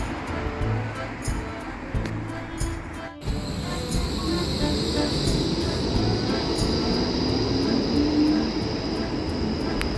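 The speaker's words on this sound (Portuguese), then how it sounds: "Trenzinho andando no meio dos carros." A small tourist train rolls among car traffic on a street in Ghent, Belgium, producing a loud, steady rumble with engine drone and a faint rising whine, with one brief dropout partway through.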